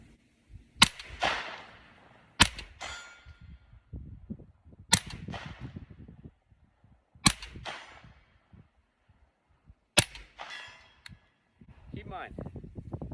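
Five sharp rifle shots ring out about every two and a half seconds while testing an SMS HFXC green laser at 100 yards, each crack loud and followed by a brief echoing tail, with faint speech between shots.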